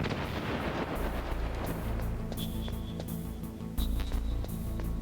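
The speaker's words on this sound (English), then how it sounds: "Let's blow it open." Deep rumbling blasts and crackling bursts from a Metal Gear video game fill the scene as something is blown open, with a fresh loud boom near the end over continuous roaring noise.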